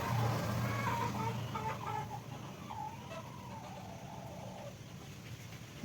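A chicken clucks in an agitated, repeated run of calls close by, with a steady background hiss of rain or ambience underneath and no one talking.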